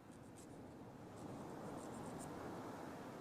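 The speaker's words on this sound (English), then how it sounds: "I'm going to grab my trusty metal file again, and this time I'm going to clarify that point by filing the sides." A metal nail file rasps along the sides of a fingernail in a close, steady scratchy stroke, continuous for a few seconds with no talking.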